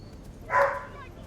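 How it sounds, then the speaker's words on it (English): A single short dog bark or yip rises briefly in the background, moderately loud against a quiet, low room hum. "do apologize about the barking in the background"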